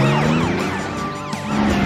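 A cartoon super police truck sounds its siren, a loud, close, continuous wailing tone that rises and falls in quick repeated sweeps with no talking over it.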